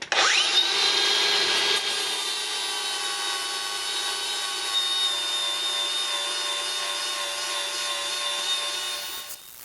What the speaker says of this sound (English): Let's use a power scraper.